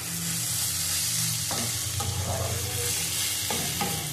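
Grated radish stir-fry (mulor chhechki) sizzling steadily in a pan as its water cooks off, with a few scraping stirs of a spatula partway through; close and continuous, no talking.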